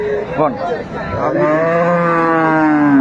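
A dairy cow at the Aftabganj cattle market in Dinajpur lets out one long, loud, close moo after a few seconds of crowd chatter and voices.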